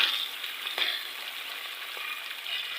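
Chicken frying in a pan with garlic gives a steady, bright sizzle, continuous and close. A couple of faint stirring clicks come through and no one speaks.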